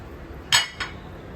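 Raw mango being cut into small pieces with a knife inside a steel mixer jar, two quick metallic clinks close by in a quiet room.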